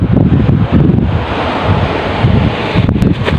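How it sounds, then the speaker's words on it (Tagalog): Strong wind roars across a shoreline fishing spot near rocks where a net is set, with big sea waves surging in a steady, loud rumble and no speech. "pag ganyang malakas ang hangin expected dyan na may malalaking alon"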